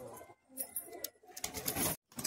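A pair of grizzle racer pigeons coo in bursts, soft and fairly close, with brief gaps of near silence between the calls.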